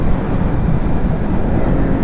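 A freshly rebuilt 1984 MZ TS125 two-stroke motorcycle, being run in, rolls along with the throttle shut, its engine giving a steady, close, fairly loud drone and rumble without a break.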